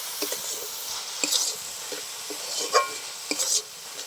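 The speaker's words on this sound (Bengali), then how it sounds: "কিশমিশ দিয়ে দিচ্ছি, কাজু দিয়ে দিচ্ছি। এবার নেড়ে চেড়ে আমি নামিয়ে নেব।" Carrot halwa stirred in a pan with ghee, cashews and raisins, giving a soft steady sizzle with scattered close scrapes and taps of the spoon.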